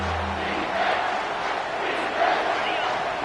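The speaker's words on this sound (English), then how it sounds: "this crowd will blow out a vocal cord to help this defense" A stadium crowd roars at a football game as the defense lines up for a third down, producing a loud, steady wash of massed voices that holds throughout with slight swells.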